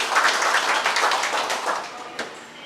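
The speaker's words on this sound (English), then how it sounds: "let's all have a round of applause for Jeff Burkhart" An audience at a political forum in Clarksville claps for a speaker, a dense burst of applause that gradually thins out and fades over a few seconds.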